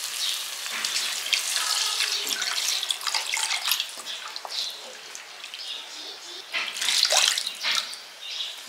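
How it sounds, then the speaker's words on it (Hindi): Water splashes and trickles into a cooking pan in irregular bursts, close by, a glass of water added to oil and masala for rohu fish curry, with a few faint chirps in the background. "ଗୋଟେ ଗ୍ଲାସ୍ ପାଣି ମୁଁ ଦେଇଛି।"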